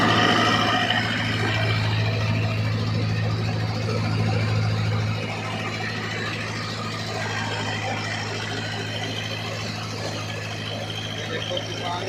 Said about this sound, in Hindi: भाई साहब आपको दिखाते हैं थ्रेशर मशीन धान निकालने वाली